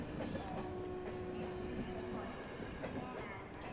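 A train rumbles past on a railway line at moderate distance, a steady broad roar with a sustained horn-like tone and faint clattering, continuous throughout.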